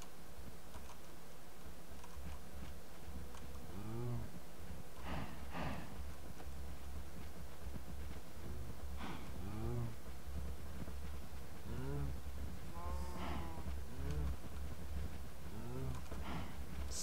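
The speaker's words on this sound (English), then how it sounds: "There's so many cows." Cows in the Minecraft video game low repeatedly, several drawn-out moos arriving every few seconds over a steady background hum, some overlapping as the herd moves together.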